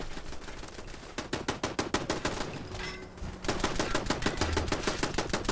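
Automated turrets in Fallout fire rapid, evenly spaced shots in a steady mechanical rhythm. The bursts come at moderate distance, break off briefly around three seconds, then resume.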